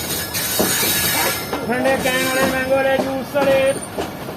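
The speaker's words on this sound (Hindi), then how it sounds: "तो ये आप देख सकते हैं कि GU20 ट्रेन के साथ आहिस्ता आहिस्ता ट्रैक चेंज कर रहा है।" Sir Syed Express train rolls slowly over switches while changing tracks near Wazirabad railway station, with squealing wheels, metallic clacks and a steady rumbling drone, close and continuous.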